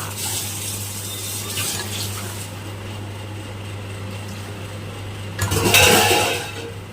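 Pieces of Boroli fish drop into a thin, boiling curry with slit green chillies, giving a short burst of splashing and bubbling near the end over a steady low stove hum.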